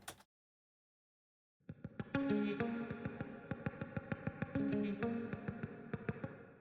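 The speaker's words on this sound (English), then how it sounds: "I've added some plate reverb on the guitar just to give it an even bigger room and a little more depth" Guitar drenched in plate reverb for a bigger room, playing a rhythmic strummed and picked phrase after a short silence, each attack ringing out into a lush, sustained tail.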